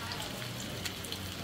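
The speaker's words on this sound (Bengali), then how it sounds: "যে আমি এটা হালকা একটু ভেজে নিচ্ছি" Vermicelli with chopped nuts, coconut and raisins is lightly fried in a pan, making a dense, continuous close sizzle like rain on a surface for a brief moment, with no voice.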